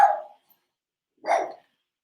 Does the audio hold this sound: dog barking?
yes